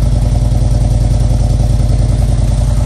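A car engine revs steadily through twin exhaust pipes, a loud, close, continuous rumble with a fast pulsing beat and no pauses.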